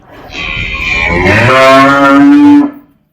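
A single loud, close moo from a young male buffalo calf, starting thin and rising into a full, drawn-out bellow before stopping abruptly.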